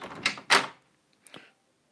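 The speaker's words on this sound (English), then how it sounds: "Oh, my cat Luke's trying to get in." A cat bumps and paws at a room door from outside, two quick close thumps, a brief pause, then a lighter rattle before silence.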